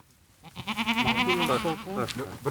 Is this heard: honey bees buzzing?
no